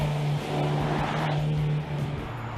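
KTM X-Bow R race car, 300 hp and 790 kg, driving hard around the Paul Ricard circuit, its engine droning loud and steady throughout with a strong low tone and a brief dip near the end.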